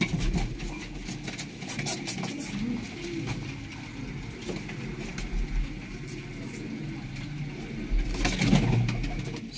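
Pigeons coo in a loft in Faisalabad, soft low repeated calls layered together with faint background noise and a brief louder burst near the end.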